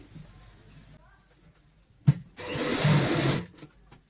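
A sewing machine runs in one short burst of about a second, stitching an old-cloth ladies' purse, near and fairly loud after a sharp knock.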